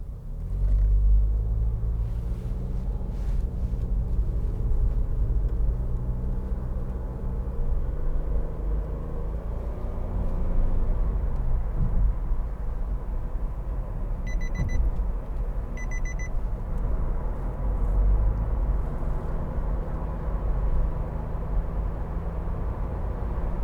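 A 2015 Nissan Note 1.2 DIG-S Tekna on the motorway gives a continuous low road rumble with engine drone and tyre noise, joined by a brief pair of electronic chimes partway through.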